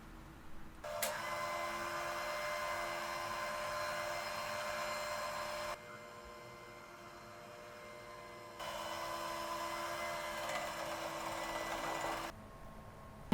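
An electric mixer blends brownie batter with added all-purpose flour, its close, steady whirring motor running in two long stretches split by a brief pause, with no talking.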